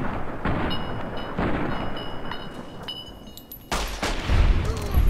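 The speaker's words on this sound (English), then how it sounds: "I'm gonna shoot him in the face." Gunshots and heavy blasts in the video game Fallout New Vegas, loud booming reports rolling over one another, with a sharper impact near the end.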